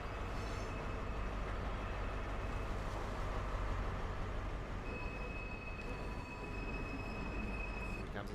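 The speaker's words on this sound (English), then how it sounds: "Here comes a steam train." A steam train approaching in the rail game Train Sim World 4 at Peak Forest: a loud, steady rumble of wheels and engine fills the scene, with thin high tones rising partway through.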